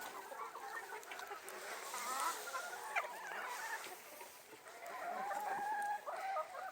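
Chickens cluck and chatter steadily in a busy outdoor flock, with occasional louder calls rising over the continuous murmur.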